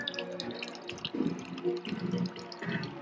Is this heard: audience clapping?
no